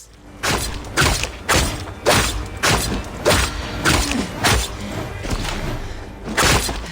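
A rapid series of heavy thuds and crunchy impacts from harpoon hits on enemies in Assassin's Creed Valhalla, roughly a dozen hits in quick rhythm, loud and close with a metallic, game-like punch.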